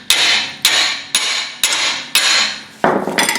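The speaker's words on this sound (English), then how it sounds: "we'll just break them loose with a hammer" Five loud, sharp metallic hammer blows break loose rear brake parts on a 2005 Chevy Trailblazer, landing about half a second apart, each with a ringing decay, followed by a few quicker, lighter knocks.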